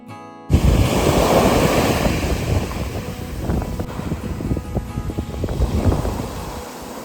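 Surf rolls in on the southern French coast, a broad hissing wash of breaking waves with buffeting wind rumbling across the microphone, loud and continuous with irregular low thumps and no voices.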